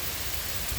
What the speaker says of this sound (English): Oh my god, it's raining actually hard.